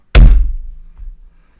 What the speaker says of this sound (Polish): Teraz uwaga, będzie stuknięcie na stole.